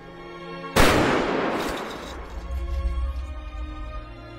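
A firing squad's rifle volley sounds as one sharp, loud simultaneous crack in a dramatized film scene. It decays slowly through a long echoing tail into low rumbling noise, with no voices heard.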